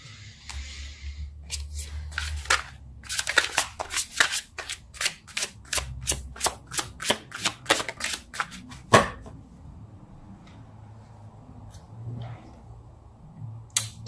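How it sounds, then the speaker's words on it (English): Tarot cards are shuffled by hand in a rapid series of crisp riffling snaps and flicks, loud and close, then trail off into quiet room tone. "Let's pull a card for your physical space."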